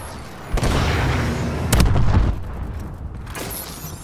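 Bombing-run and missile-strike explosions go off in the video game Call of Duty: Advanced Warfare: three heavy booms land about a second apart, each with a rumbling tail over a steady battle din.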